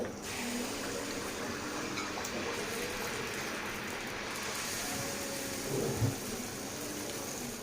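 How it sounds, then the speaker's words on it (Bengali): Egg pitha (jhal dim poya pitha) batter frying in hot oil, a steady dense sizzle holding at the same level throughout with a small bump near the end. "একইভাবে অবশিষ্ট পিঠাগুলো আমি ভেজে নিব"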